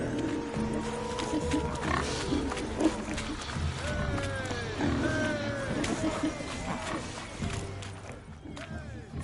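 Pigs in a pen in The Witcher game, grunting and squealing in a busy cluster over hoof clatter and rustling, with voices talking over the animal noise throughout.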